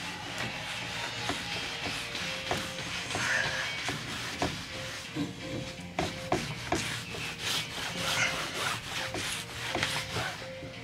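Aluminum trim is rubbed with chrome polish on a cloth, giving a continuous close scrubbing and rasping with a loose back-and-forth rhythm and small clicks, quiet and without speech.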